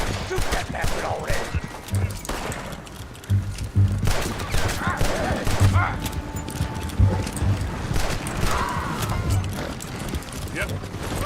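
Scattered gunshots ring out in the Red Dead Redemption video game amid a busy mix of horse hooves, shouting voices and background game noise, with several sharper reports standing out over the din.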